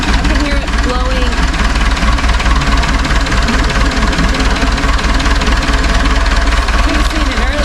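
A Cat forklift engine running steadily with a combustion pressure leak into its cooling system, a loud continuous rumble with knocking texture and hiss throughout, with a voice speaking over it.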